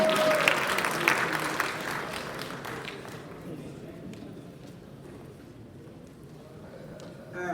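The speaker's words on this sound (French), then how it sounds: "Ce sont des applaudissements de personnes..." Crowd applause from an audience at a gathering, dense and steady at first, then thinning into scattered clapping with some background chatter.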